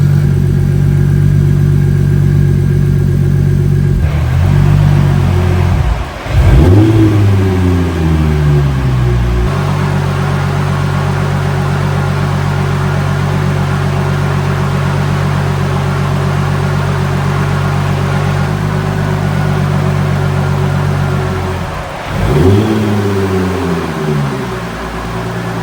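A Toyota Supra JZA80 engine, fitted with an upgraded Sequoia alternator, idles steadily close by with a constant low hum, twice briefly dipping and surging in revs before settling back.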